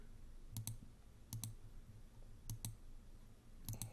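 A computer mouse clicks in quick double clicks, four pairs spaced about a second apart, close and crisp over a quiet background hum.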